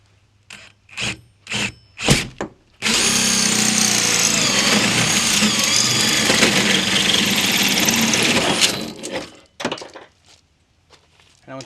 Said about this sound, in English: So I'm going to go ahead and drill this now. Using a 2 3/8 metal hole saw.